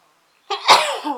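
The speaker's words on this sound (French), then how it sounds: "elle va éternuer" A single sharp sneeze bursts out after silence, close and loud, with a brief breathy tail.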